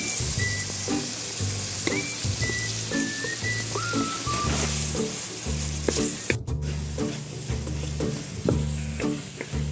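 Steady close sizzling as bagoong shrimp paste is added to cooked-down tomatoes and pork in a hot pan for binagoongang baboy, with faint whistling tones and occasional stirring clatter over the frying hiss.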